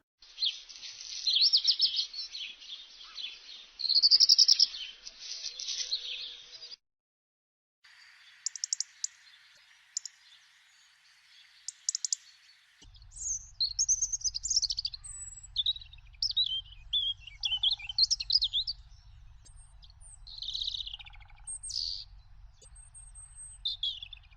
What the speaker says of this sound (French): Rouge-gorge.